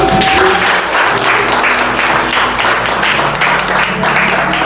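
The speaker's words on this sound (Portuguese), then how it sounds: "Eu quero que você dê uma salva de palmas a Jesus." A church congregation claps steadily and loudly, dense applause filling the space without pause, with a faint murmur of voices underneath.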